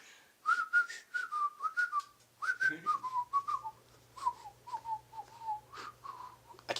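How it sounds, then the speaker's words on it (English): A man whistles a wavering tune while walking up stairs, a series of short clear notes in uneven phrases, close and fairly quiet with a faint low hum underneath. "Actually, he goes up the stairs whistling."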